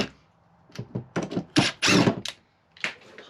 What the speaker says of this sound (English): And I'm taking these cabinet doors off, so I'm gonna donate these.